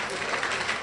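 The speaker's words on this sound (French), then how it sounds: "On applaudit très fort." A crowd applauds at a large economic forum for Congolese and international entrepreneurs, a dense, steady wash of clapping for just under a second, with voices mixed in.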